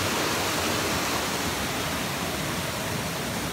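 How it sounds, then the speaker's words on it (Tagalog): Pangabit Kabiton Falls in Tapaz, Capiz, a constant loud roar of falling water filling the air evenly with no breaks or voices. "So maingay yung falls."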